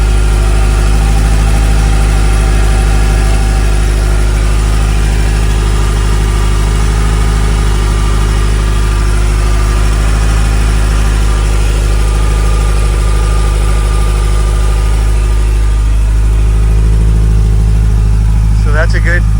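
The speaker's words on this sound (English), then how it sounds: "That's a good listen to the engine" A 1981 Ferrari 308 GTSi engine idles loudly and steadily up close, a deep constant rumble with a slight rise in tone near the end.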